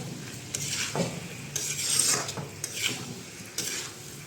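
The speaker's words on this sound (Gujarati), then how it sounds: "હવે આપણે ઉપરથી એમાં કોથમીર નાખશું મિક્સ કરશું" Coriander being stirred into a potato mixture for bhungra batata, giving a series of scraping, stirring strokes in a bursty rhythm, close and moderately loud with no talk.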